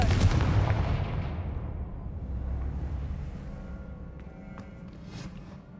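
A Confringo spell blast bursts in Hogwarts Legacy as one loud booming explosion, then a long rumbling decay that fades away over several seconds.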